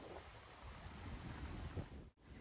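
Ocean waves splash against rocks beside a seaside platform in a Samoan village, a steady, soft wash of surf with wind rumble at the microphone, briefly dropping out near the end.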